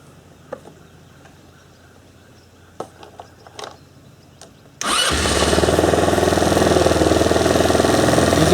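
A $500 four-wheeler ATV with a new battery sits quiet apart from scattered clicks and knocks, then its engine catches suddenly and settles into a loud, steady, close idle.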